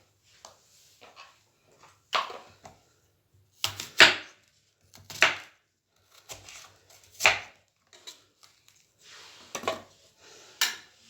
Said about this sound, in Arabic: وهنجيب برضو البصل هنقطعه قطع عشوائية كده